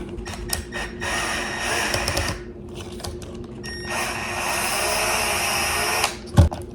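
Screws are driven out of the links of an Axial RR10 Bomber RC crawler with a power driver, which whirs in two sustained buzzing runs separated by a short pause, close and steady, ending with a brief knock.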